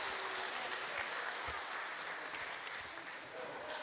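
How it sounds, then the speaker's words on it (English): Quiet applause from a church congregation, a soft scatter of clapping in a parish church with faint voices mixed in, fairly distant and low in level. "Give them a round of applause."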